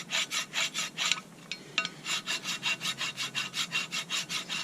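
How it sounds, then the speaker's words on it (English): Hand file rasping rust off the flats of a Buick LeSabre brake caliper bracket, steady back-and-forth strokes repeating in an even rhythm, close and clear with a brief pause midway and no talking. "trying to fill some time here while you're seeing me file. You can see I'm getting that rust down."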